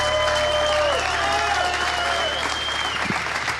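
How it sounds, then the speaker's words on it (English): An audience at a welding academy event in Trinity, Texas gives its teachers a loud, continuous round of applause, with a few raised voices or whoops drawn out above the clapping. "Let's give them a round of applause!"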